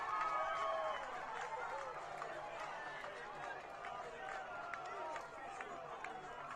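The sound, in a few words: football crowd cheering after a goal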